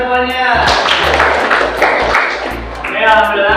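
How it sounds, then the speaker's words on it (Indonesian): Classroom participants clap together after a group presentation, a burst of applause rising in the middle, with musical tones playing before and after it. "Tepuk tangan semuanya."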